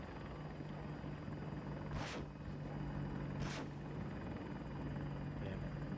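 Helicopter rotor drone from the video game Battlefield 2042 hums steadily at moderate distance, with two sharp whooshing bursts passing through; no speech.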